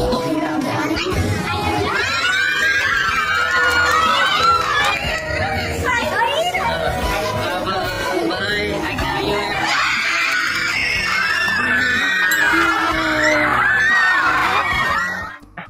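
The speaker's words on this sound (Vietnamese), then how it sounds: "Tiếng hét của các cô cậu học trò rung động cả đất trời." Schoolchildren scream and cheer together in a classroom, a dense, loud, continuous burst of excited shrieks and shouting that lasts throughout and cuts off at the end.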